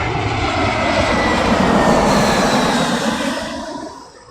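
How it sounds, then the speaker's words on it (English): A military aircraft roars overhead near London Heathrow, a loud broad jet rumble that swells to a peak and then fades as it passes, with no talking. "I do believe we have a military aircraft flying over the top of us."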